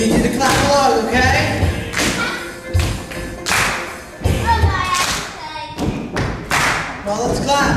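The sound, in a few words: children clapping along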